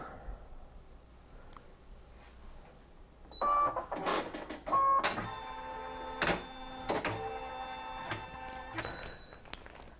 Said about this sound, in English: this is my embroidery machine. First thing I do is I power it on, let it do its calibration.